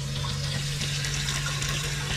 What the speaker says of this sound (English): So let's open the water.